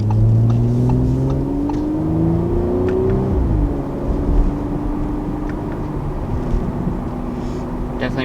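An Audi RS5 Sportback engine revving under manual shifting, its pitch climbing steadily, then dropping sharply at a gear change and settling into a steady drone, with road and cabin noise throughout.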